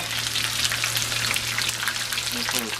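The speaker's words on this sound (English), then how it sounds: "It's going to take about a minute and a half to cook this fish." Fish fillets for a po' boy sizzle and crackle steadily in a hot frying pan, a close, continuous frying hiss with no talking.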